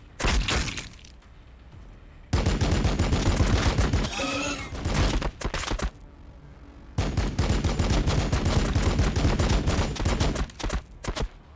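Bolter gunfire in Warhammer 40,000: Battlesector, loud sustained bursts of heavy automatic fire with sharp cracks and impacts, broken by short lulls and a brief rising whine.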